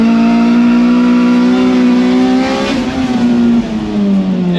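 A car engine revs hard and accelerates close by, its loud rising pitch holding then dipping briefly as it shifts before climbing again, with no talk.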